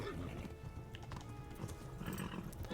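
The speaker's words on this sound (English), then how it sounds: "Okay, horse, I'm just gonna listen to you complain for a bit" A horse in the medieval game Kingdom Come: Deliverance, heard quietly as steady hooves clopping with a brief whinny mixed in, all at a low level in the background.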